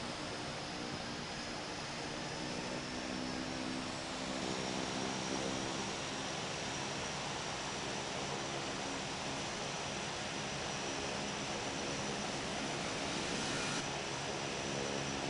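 A heavy aircraft taking off from runway 26 right at Ontario, a steady, loud broadband roar of engines that holds constant throughout with no talk.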